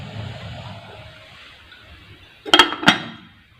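A lid is set onto a pot of green kahwa tea just taken off the heat, giving two close, sharp metallic clinks in quick succession after a quiet low rumble.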